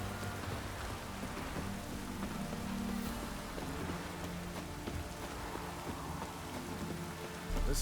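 Steady rain in The Witcher 3 keeps up a dense, even patter under a low rumbling ambience for several seconds, loud and continuous, with no talk.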